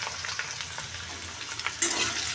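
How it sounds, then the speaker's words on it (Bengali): Potatoes fry in oil with a close, steady crackling sizzle and scattered soft stirring taps, swelling louder toward the end. "আজকে প্রথমে আমি তেল দিয়ে নিয়েছি কিছুটা, নিয়ে তার মধ্যে আলুগুলো আগে ভেজে নেব।"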